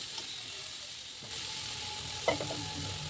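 A pot of raw banana and potato curry being stirred, a low steady sizzle and bubbling with one brief scraping clink partway through, fairly quiet and close.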